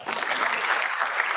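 Audience applause at a high school class awards ceremony in a school district hall: dense, steady clapping from a full crowd, sustained at even loudness with no talk over it.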